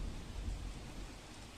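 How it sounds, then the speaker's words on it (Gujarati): Dense, loud rain hiss with a deep rumbling undertone, a short unbroken burst of torrential downpour in Modasa, Aravalli, with roads submerged. "અરવલ્લીના મોડાસામાં સામેલાધાર વરસાદ પડ્યો છે"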